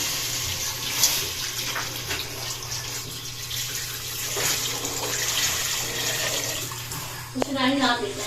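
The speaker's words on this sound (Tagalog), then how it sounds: "Lalagyan na po ni Kuya ng tubig pang sabaw po." Water pours into a pot of pork for sinigang broth, a steady splashing rush that swells midway, with a voice talking briefly near the end.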